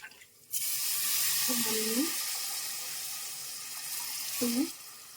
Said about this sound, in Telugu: సో ఇప్పుడు వేసేస్తున్నా వాటర్